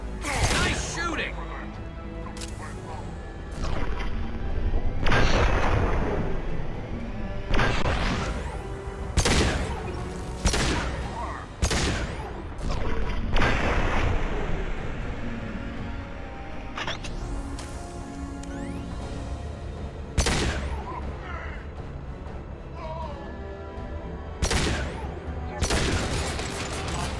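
Rapid, loud bursts of gunfire ring out in a Mass Effect 2 firefight. Sharp shots and heavy impacts repeat throughout, with voices heard over the combat.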